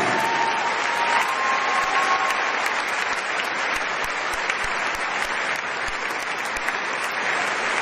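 Applause fills a large arena during a charity concert at the Zénith de Toulon, a broad, sustained wash of many hands clapping from a big crowd, even and continuous without letting up.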